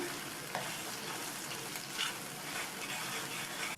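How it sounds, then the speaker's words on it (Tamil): Coriander thokku is stirred and fried in sesame oil in a pan, giving a steady close sizzle with soft scraping of the spoon throughout and no voices. "நல்லா இந்த மாதிரி கலந்து கொடுத்துட்டே இருந்தோம்னா நம்ம சேர்த்த எண்ணெயெல்லாம் நல்லா பிரிஞ்சு வெளியில் வரும்"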